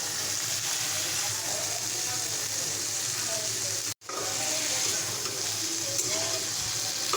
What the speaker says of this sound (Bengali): সবজিটাকে ভালো করে কষিয়ে দিচ্ছি।